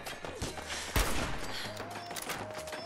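Enemy gunfire in Fallout 4, a burst of loud overlapping shots with a sharp crack near the one-second mark, mixed with game music and ambient noise, no talking.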